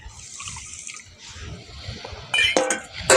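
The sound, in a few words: pouring a bowl of water onto sugar in a pan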